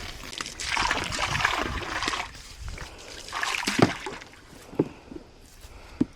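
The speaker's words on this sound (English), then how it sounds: "Water's on, but I forgot to open this up so that the water come out." Water gushing and splashing from an opened outdoor water outlet, a steady rushing flow that eases off, followed by a few sharp splashes and knocks toward the end, with no voices.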